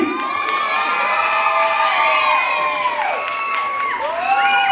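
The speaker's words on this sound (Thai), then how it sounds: "ปรบมือดังๆให้น้องหน่อย" An audience at a Star Dance event in Phuket cheers loudly, with high-pitched children's shouts and whoops rising and falling in a continuous, excited crowd roar.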